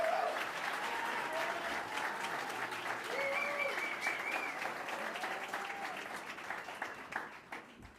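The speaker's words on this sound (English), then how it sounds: "Can we show him a round of applause" A rally audience claps and cheers steadily for several seconds, a broad wash of applause with scattered shouts that thins out near the end.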